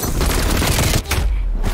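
Dual-wielded magnums fire in a shooter video game, a dense burst of loud, close shots that briefly cuts out near the end.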